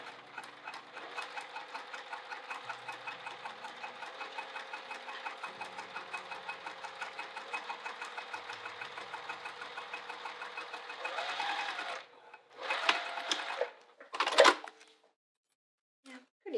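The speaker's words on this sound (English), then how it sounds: "We're just going to fold that seam allowance down so that we're hiding the raw edges and top stitch it" A sewing machine top-stitches a folded-down seam allowance, running steadily for about eleven seconds before stopping; a few short bursts of handling and fabric noise follow.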